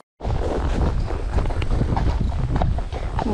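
Gusty wind buffets the microphone in a steady, loud rumble on an outdoor horse ride, with the soft rhythmic clop of hooves walking or trotting underneath.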